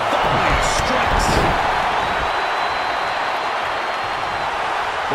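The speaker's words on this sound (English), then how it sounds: "The sound of this crowd is deafening, and he's asking for more." A wrestling arena crowd roars loudly and steadily during a match, with a few sharp thuds near the start and a commentator talking over the noise.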